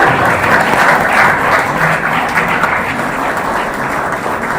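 Guests at a retirement party clap together, a dense, even wash of applause holding steady for several seconds with no break.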